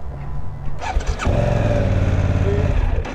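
A BMW R1250 GS HP motorcycle engine cranks and starts, then settles into a rough, throbbing idle, loud and close, with no talk over it.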